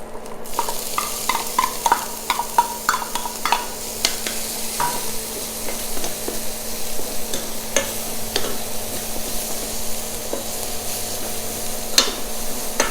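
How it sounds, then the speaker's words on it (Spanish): Onion searing in a frying pan for a bolognese sauce, a constant bright sizzle with repeated spatula scrapes and clicks against the pan, close and fairly loud, with no voices. "En nuestra misma sartén vamos a estar sellando nuestros vegetales, que sería nuestra cebolla"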